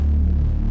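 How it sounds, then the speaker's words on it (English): A synth bass tone played in a music production setting, processed by Kilohearts Faturator distortion, sustains as a deep, heavy, throbbing hum with a steady low drone and no voices. "so I've got a bass sound here and it sounds like this"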